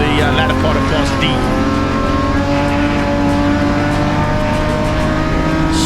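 BMW M Performance Parts race cars in a Class D circuit race roar loudly and continuously as engines rev and accelerate, with a commentator talking over the sound.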